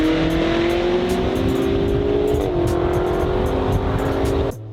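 Race between an 800 hp BMW M5 and an M3 Competition, a loud sustained engine drone with rising pitch under acceleration, close and continuous, then a sudden drop near the end.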